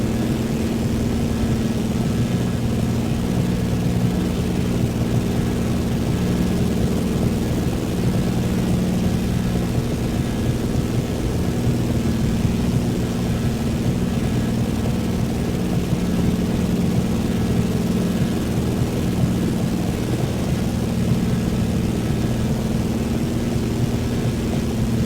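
A Cessna 172 propeller plane drones in flight in Microsoft Flight Simulator 2024 on a rainy day, a loud, steady engine and propeller hum that holds unbroken and without talk throughout.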